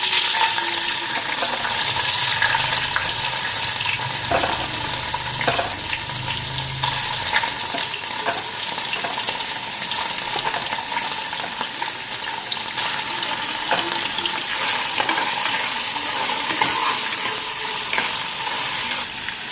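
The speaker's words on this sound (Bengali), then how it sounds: "এখন পনিরগুলি ভাইজা নিই" Paneer frying in hot oil in a wok, a steady dense sizzle that runs unbroken and loud, with occasional scrapes and clinks of stirring close by.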